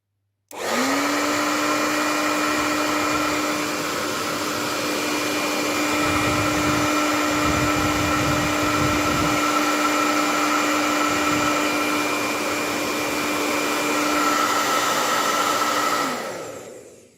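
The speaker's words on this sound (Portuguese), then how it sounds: "Eu vou ligar aqui o secador." A hair dryer heating circuit-board transistors whirs steadily at close range for the whole stretch, a constant loud motor-and-fan roar with a high whine, starting and stopping abruptly.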